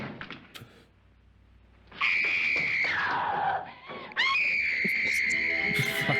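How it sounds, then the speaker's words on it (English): A woman in the 1959 horror film House on Haunted Hill screams in two long, loud, piercing shrieks separated by a brief dip, with a faint voice murmuring before the first. "scream and run some more"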